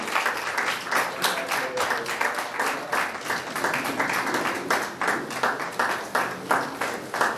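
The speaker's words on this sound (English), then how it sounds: "I will give a sharing clap until the next speaker." Steady group clapping at an alumni association annual general meeting, a sustained round of applause from a nearby crowd with a faint voice underneath.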